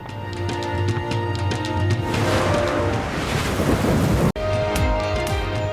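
Torrential monsoon rain hammers down in Pakistan around Lahore, Gujranwala and Abbottabad, a loud, dense, unbroken roar with thunder rumbling through it before a sudden cut near the end.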